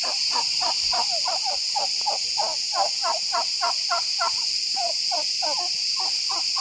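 Male turkeys on open farmland gobble over and over in rapid rattling bursts, a steady chorus at moderate distance, set against a constant high insect drone with no talking.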